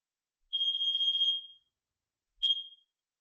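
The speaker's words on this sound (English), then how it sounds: "This one is a regular old smoke detector." A regular household smoke detector sounds during a monthly fire alarm test, giving a loud, shrill beep about one second long followed by a second, shorter chirp, with no other noise around it.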